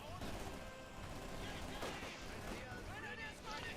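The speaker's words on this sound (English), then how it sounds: "We've got the machine gun bunker plus the light machine gun opening up with the shock troopers." Machine gun fire in a Company of Heroes 2 match, from a machine gun bunker and a light machine gun alongside shock troopers. Dense, rattling bursts of battle noise run continuously under a commentator's voice.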